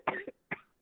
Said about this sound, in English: you're coughing and shit too